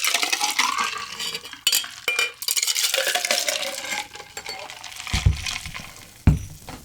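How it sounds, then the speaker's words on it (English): A Suffering Bastard cocktail with ginger ale rolled between shaker tins, with liquid and ice sloshing and rattling in bursts, several sharp knocks of metal and glass, close and fairly loud, with no talking. "I'm going to roll it once. Just so the ginger ale mixes in nice."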